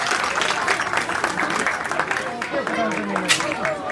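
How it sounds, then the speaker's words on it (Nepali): A church congregation at a Love Feast celebration claps for players in a game, with a dense, continuous patter of applause under overlapping chatter and raised voices. "हामी ताली बजाएर उत्साह प्रदान गर्न सक्छौँ हाम्रो खेलाडी भाइहरूलाई विशेष गरेर।"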